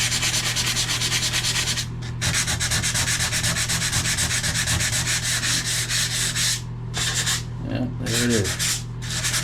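Sandpaper rubs steadily back and forth over a bathtub's glossy surface during a crack repair, a continuous close scratchy grind with a short break, while a voice speaks briefly near the end.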